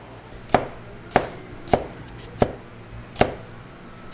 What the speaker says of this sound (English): Maybe Gordon Ramsay would be proud of your chopping skills.